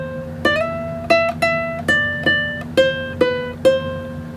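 A ukulele fingerstyle phrase: about ten clean plucked notes at an easy pace, each ringing and fading, played close with no talking.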